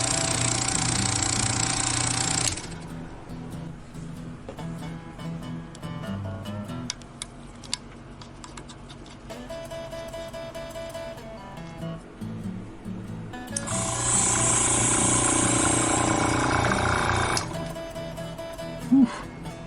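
A Grex air compressor runs without its hose attached, a steady mechanical hum and rattle that carries through the whole stretch, with louder hissing bursts at the start and again near the end.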